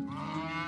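A cow gives one sustained, low, drawn-out moo, loud and close, with nothing else around it.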